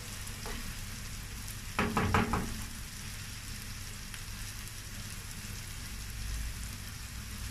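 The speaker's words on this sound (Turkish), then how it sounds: "Çukurlara yumurtalarımızı kıracağız." Eggs cracked into green beans sautéing in a pan, a soft steady sizzle throughout with a brief burst of crackling and cracking sounds near the two-second mark, close and fairly quiet.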